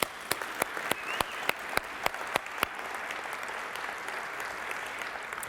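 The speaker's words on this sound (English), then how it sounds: "Please give them a round of applause." Steady applause from the audience at a city's state of the city address, a dense wash of clapping with a few sharp, distinct claps standing out early before it settles into an even, continuous patter.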